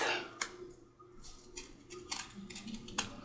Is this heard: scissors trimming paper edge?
yes